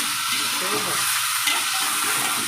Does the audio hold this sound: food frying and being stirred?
yes